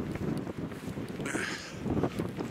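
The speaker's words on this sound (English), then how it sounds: "Why has it always got to be flaming windy?" Steady wind rushes over open Cheviot Hills moorland, a broad, continuous buffeting close to the microphone with gusts swelling and easing, heard alone without talk.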